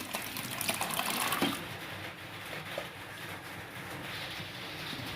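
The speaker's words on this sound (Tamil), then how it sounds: "வேக வச்சு தண்ணி ஊற்ற போகிறேன்" Water is poured into a pot of cooked lentils while making idli sambar in a home kitchen, giving a steady close-up gushing splash that thins out after the first second or so.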